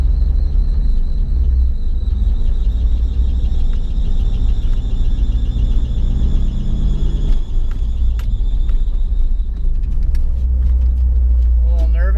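An LS-swapped Nissan 350Z on its first drive, engine droning loud and steady from inside the cabin with a deep low rumble and a faint high whine, easing slightly partway through.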